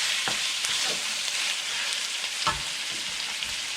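A kilo of ground pork hits a hot pan and fries with a loud, continuous sizzle, broken by a few scrapes and stirring knocks, with no talking.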